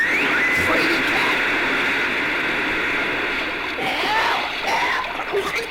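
Splash of a fox falling overboard from a boat into water, a loud broad wash of splashing and churning water that runs steadily for several seconds, with voices over it.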